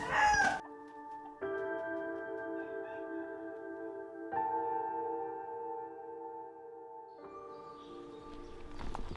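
Roosters crow at a cockfighting arena in Chiang Rai, Thailand, with several long drawn-out crows following one after another, close and loud, and no talking over them.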